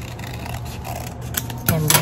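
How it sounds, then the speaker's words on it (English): Scissors snip through folded paper in a few close, crisp cuts, the sharpest near the end, with faint room noise around them and no voices. "I'm going to cut."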